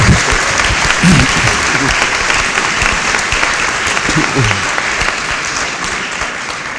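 Sustained audience applause at a national exorcists' conference in Mexico, a dense, even wash of clapping from a large crowd with a faint voice briefly audible underneath, easing slightly toward the end.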